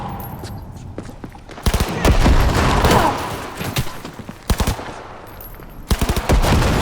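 Automatic machine gun fire in the video game Cyberpunk 2077 comes in several loud, rapid bursts separated by short pauses, with game ambience between them.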